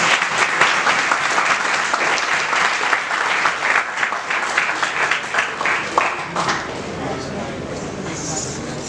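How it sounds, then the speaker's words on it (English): An audience at a Kathak dance recital applauds: a full round of clapping that thins out after about six seconds, as voices and scattered claps carry on underneath. "Give a big round of applause"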